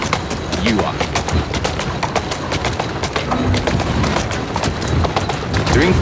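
A horse gallops in Assassin's Creed Syndicate, a fast, steady clip-clop of hooves over continuous rumbling wheel and street noise, with a short whinny and voices talking throughout.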